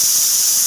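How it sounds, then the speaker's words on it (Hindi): A steady, loud hissing whistle of steam escaping from a pressure cooker in a home kitchen, continuous and close, with no voices. "देखो कुकर ने सीटी भी दे दिया"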